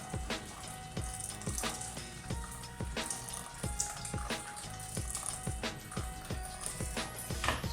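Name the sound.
water poured into semolina for couscous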